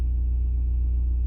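An Audi's engine idles steadily with a low, even rumble, close and continuous with no misfires or breaks.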